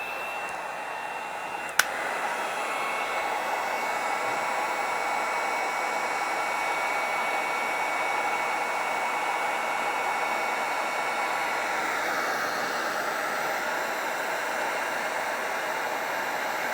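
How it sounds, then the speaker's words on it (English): A heat gun blows steadily at close range as it shrinks heat shrink tubing over a wire, a constant loud airy roar with a single sharp click near the start. "we slide it over, get our heat gun, and go to town"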